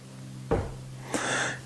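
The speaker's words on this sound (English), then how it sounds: "I like to have a real positive camming sound like this." Two short mechanical clunks about half a second apart from a reloading press ram camming over while resizing a rifle case, the second followed by a brief scraping rasp, in a quiet room.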